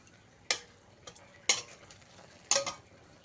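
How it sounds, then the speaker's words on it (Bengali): Dried red chillies dropped into hot oil for a Bengali tempering, with a few sharp crackling bursts of sizzle and spoon scrapes against a quiet background. "আমি ফোড়ন দিয়ে নিচ্ছি ফোড়নে দিলাম শুকনো লঙ্কা"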